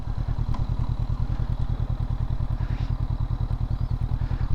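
A Honda CB500X motorcycle rides at speed over rough ground, its parallel-twin engine throbbing in a fast, steady pulse close up with some clatter and bumps mixed in.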